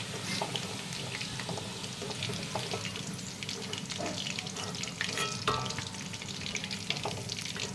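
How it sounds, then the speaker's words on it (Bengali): Steady crackling sizzle of chicken frying in oil in a kadai, continuous and fairly loud throughout, with occasional clinks and stirring noises on top. "সবগুলো চিকেন আমি এইভাবে ভেজে নিয়েছি"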